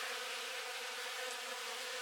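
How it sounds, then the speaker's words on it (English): A steady, dense buzzing of many honeybees robbing leftover honey from harvested hive frames, a continuous close drone with no pauses. "this to me looks like just bees coming in and stealing the honey that was left over"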